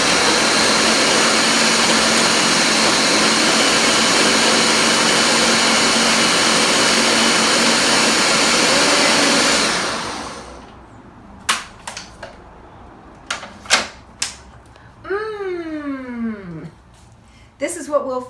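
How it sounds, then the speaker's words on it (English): A kitchen blender purees food scraps, water and crushed eggshells for worm feed, a loud steady motor roar for about ten seconds before it cuts off, followed by clicks and handling sounds. "put into a blender with some water and some crushed eggshells"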